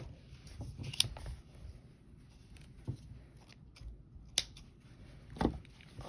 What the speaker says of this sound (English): And cut it off.